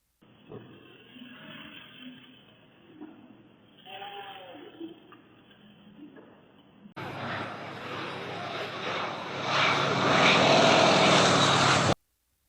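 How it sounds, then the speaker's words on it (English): A Soviet biplane's propeller engine drones at an air show in Russia, faint at first and then swelling into a loud, broad roar as the aircraft dives toward the ground at full speed. "The rugged Soviet biplane nosedives straight into the ground at full speed during an air show in Russia."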